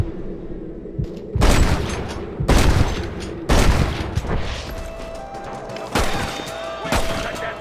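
Gunfire in the video game Red Dead Redemption, four or five loud, heavy blasts spaced a second or two apart with lingering echoes between them, no speech over the shots.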